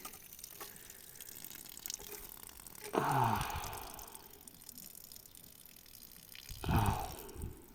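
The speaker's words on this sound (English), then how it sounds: "Whoa, look at that water." Water drains and splashes out of an old French-made Arnoux tractor under restoration, in two short bursts of gushing over a faint, steady trickle.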